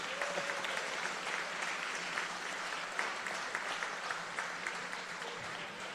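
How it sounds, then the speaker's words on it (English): Steady applause from a town hall audience for Minister Clarke, founding chairman of the National Youth Orchestra of Jamaica: a continuous crowd of clapping hands, moderately distant and even throughout. "I think he deserves a round of applause for that."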